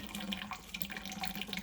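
Hot sausage grease pouring into a heat-safe container, a short, steady liquid trickle with gurgling splashes, close and fairly quiet.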